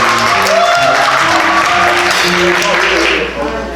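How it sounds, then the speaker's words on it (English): Warm applause from a theater audience at a community stage production, steady broadband clapping sustained throughout under voices and some music-like tones, fading slightly at the end. "A warm round of applause."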